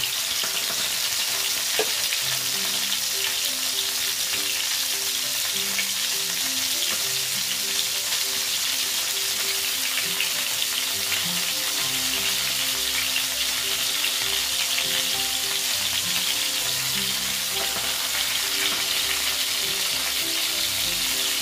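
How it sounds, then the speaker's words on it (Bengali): Eggplant slices fry steadily in hot oil, a dense, continuous sizzle and crackle at close range that holds level throughout with no talking. "সব বেগুনগুলো আমি ভেজে নিচ্ছি।"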